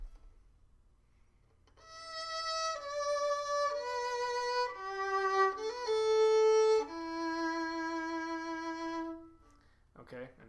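Solo violin plays the verse melody of a song as a slow sequence of sustained, clean notes with small trills and ornaments, fairly close and steady, then stops into near silence.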